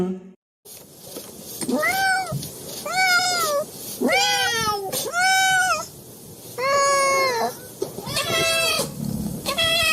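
A cat meows repeatedly, about seven drawn-out, wavering cries in a row, loud and close over a faint background hiss.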